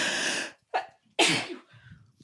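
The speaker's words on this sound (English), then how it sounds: "Sorry, I had to sneeze." A single sharp sneeze up close, followed by a couple of short breaths and sniffs.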